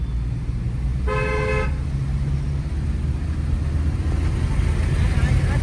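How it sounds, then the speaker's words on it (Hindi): A single car horn blares for about half a second over steady road and engine noise. "हॉर्न दो।"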